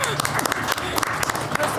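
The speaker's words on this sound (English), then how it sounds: "Can we clap? We can clap," Audience members at a school district board of education meeting clap briefly, a close burst of scattered hand claps mixed with talk.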